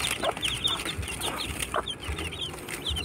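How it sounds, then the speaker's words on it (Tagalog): Several three-day-old chicks chirp in a box, a busy flurry of high, quick peeps close by and moderately loud over a low background rumble, with no talking. "11 chicks."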